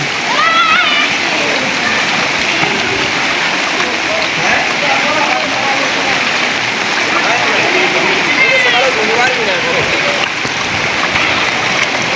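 Floodwater after heavy rain in a Sambalpur village rushes and splashes in a steady, loud wash that never lets up, with voices talking faintly over the constant flow.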